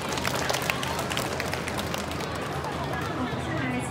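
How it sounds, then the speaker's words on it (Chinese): An audience at a railway bento festival forum applauds to welcome a speaker, a dense, steady burst of clapping with a voice audible underneath. "那我们现在就掌声欢迎他"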